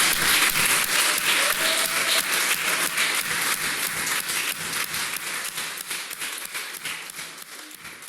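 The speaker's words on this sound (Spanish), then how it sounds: "Puedes darle una ofrenda de aplausos al Señor." A church congregation gives a sustained round of applause, with dense, even clapping throughout that eases slightly toward the end.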